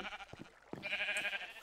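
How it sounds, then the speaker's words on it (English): Sheep in a video game bleating, a short nasal wavering cry rising near the end of a brief, faint moment, preceded by a few soft clicks. "Hi, sheep."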